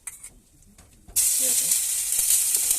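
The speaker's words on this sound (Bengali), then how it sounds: "দেখুন এবার মশলাগুলো কষানোর জন্য মশলাগুলো দিয়ে দিচ্ছে" Spices with tomato, ginger and garlic hit a hot kadai for an egg curry, bursting into a loud, steady sizzle after a quieter opening with faint stirring sounds.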